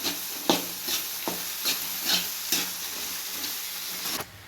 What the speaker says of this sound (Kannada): ಮಿಕ್ಸ್ ಮಾಡ್ಕೊಳ್ಳೋಣ ಮೊಟ್ಟೆ ತರಕಾರಿ ಎಲ್ಲನೂ